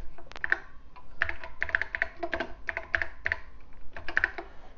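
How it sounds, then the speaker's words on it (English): Typing on a 1983 Apple IIe keyboard: rapid clacking keystrokes in uneven bursts, close and crisp, with no speech. "I can type basic commands and they work."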